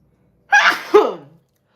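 A single close sneeze in two bursts, a sharp intake followed by the forceful release, then quiet.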